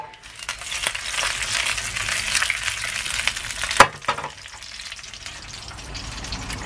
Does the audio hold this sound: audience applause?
no